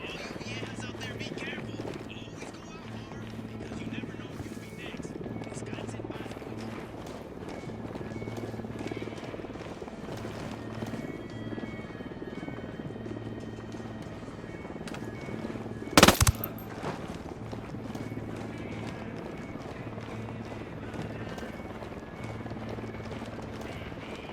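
A helicopter's steady low rotor drone runs throughout amid game ambience, with a brief sharp burst of gunfire midway and voices now and then.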